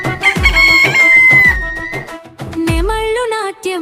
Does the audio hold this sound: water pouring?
no